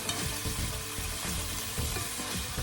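Sliced chorizo sautés in a pan with a dense, continuous sizzle and crackle, close and steady, with faint stirring underneath.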